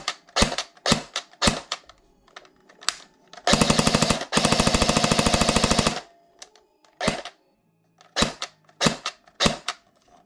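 An airsoft FN P90 fitted with an upgraded 28 TPA motor fires loud, crisp single shots and short bursts, then one long rapid full-auto string lasting a few seconds, followed by more scattered shots, with no talking.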